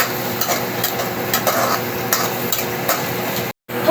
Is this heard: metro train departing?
no